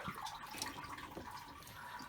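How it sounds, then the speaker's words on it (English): Water gurgles and trickles steadily as a siphon pulls muck and gunk out of a koi pond holding tank during a cleaning, a continuous close wash of liquid noise with no talking. "just through siphon pressure alone, it's just it's pulling out all the gunk"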